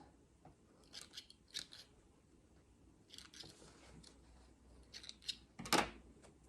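Scissors snip sewing threads close by at a sewing project, a few faint crisp cuts spaced apart and ending in one sharper snip against a quiet background.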